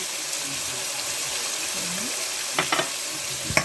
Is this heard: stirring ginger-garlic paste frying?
yes